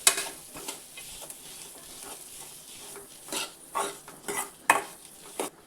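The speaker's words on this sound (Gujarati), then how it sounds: "તો આ રીતે બટેટાને મસાલાની સાથે મિક્સ કરી દેવાના છે." Spoon stirring boiled potatoes with spices in a pan for a semolina snack, with soft scraping, a gentle sizzle and several sharp clinks of utensil on metal toward the end.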